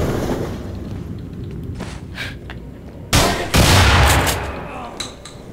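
A shotgun fires in the horror video game Underhell, two heavy booming blasts in quick succession over a rumbling ambient background, preceded by fainter clicks and thuds.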